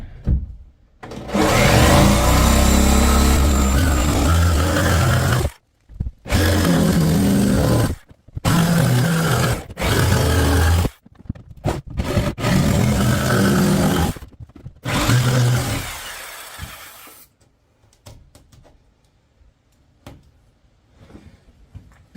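A jigsaw cuts a window opening through a shed wall in a series of loud, rough buzzing runs separated by short pauses, the motor stopping and restarting several times before the work goes quiet.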